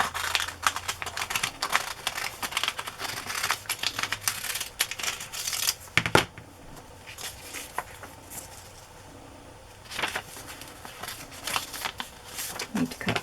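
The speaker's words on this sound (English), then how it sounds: "And I'll cut it with pinking shears." Pinking shears snip through fabric along a traced pencil circle, a run of quiet, irregular crisp clicks and crunches with brief pauses between cuts.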